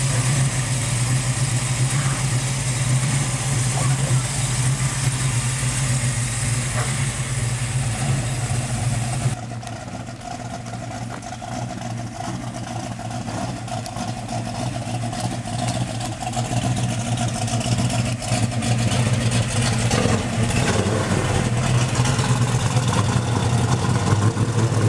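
A 1971 Dodge Challenger convertible's big-block V8 rumbles loud and close at a steady idle, then drops to a lower, smoother run, and climbs again in a sustained throaty drone.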